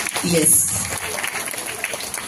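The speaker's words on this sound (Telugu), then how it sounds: "మరి గట్టిగా చప్పట్లతో వారిని ఆహ్వానిద్దాం స్టేజ్ పైకి" An audience claps loudly to welcome a chief guest onto the stage at an Ugadi awards event, with the applause swelling in the first half-second and continuing under a speaking voice.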